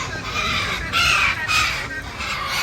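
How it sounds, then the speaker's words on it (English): Crows cawing and squabbling at the port in Cartagena, Colombia, harsh repeated calls in bursts of about three loud squawks over steady outdoor background noise. "A couple birds right over here."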